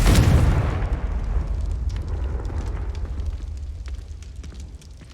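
A Confringo fire spell exploding in the game Hogwarts Legacy, one loud booming blast that rumbles and crackles away over several seconds, no talk.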